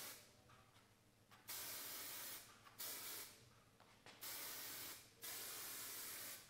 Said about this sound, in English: Get a little bit of spray in there.